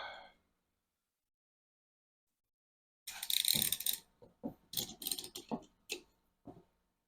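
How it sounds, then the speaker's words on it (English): A clamp is fitted onto PLA parts glued with ABS slurry, producing a short cluster of close, faint clicks and ratcheting ticks after a few seconds of near silence. "I'm going to go ahead and put a clamp on this"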